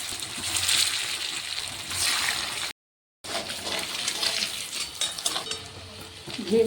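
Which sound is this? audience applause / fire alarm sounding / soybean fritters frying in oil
soybean fritters frying in oil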